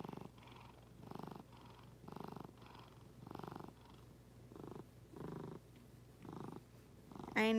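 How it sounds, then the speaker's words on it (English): Milo the cat purrs while sleeping, a close, steady rhythm of soft rumbling pulses that swell and fade with each breath, ending in a brief louder rustle. "Can you hear him purring?"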